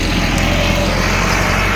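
A tractor engine runs steadily nearby in a village setting, a loud continuous rumble with a low, even throb and no talk over it.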